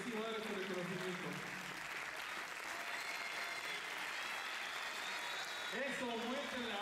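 Warm applause fills an award ceremony hall, a continuous wash of clapping from the audience with a few voices calling out near the start and end.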